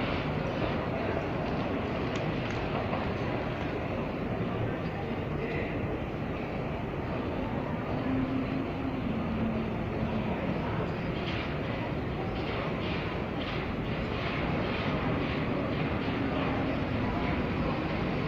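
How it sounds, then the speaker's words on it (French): MF67 train on Paris Métro line 12 rolls past a station platform near Saint-Lazare and Madeleine, a steady, dense rumble of wheels and motors that stays constant for the whole span, with no voices on top. "Ah, voilà une autre rame."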